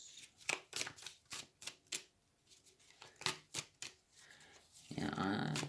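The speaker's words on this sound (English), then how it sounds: "you may wonder when I know when the shuffle's right." Tarot cards being shuffled by hand in a quiet room, a run of crisp riffling bursts and soft slaps in a steady rhythm, close and clear, ending in a longer rustling rush.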